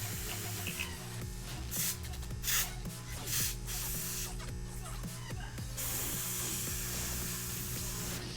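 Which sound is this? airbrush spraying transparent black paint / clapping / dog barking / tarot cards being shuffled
airbrush spraying transparent black paint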